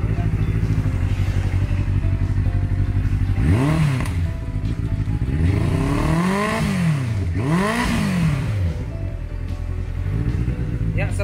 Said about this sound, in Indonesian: Ya, seperti kebanyakan motor 4 silinder. Khas banget ya. Bunyi 4 silinder.